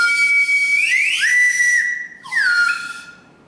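Air-column whistle from a physics demonstration, heard as two sustained, fairly loud tones with sliding pitch changes and a short break between them, alone without talk.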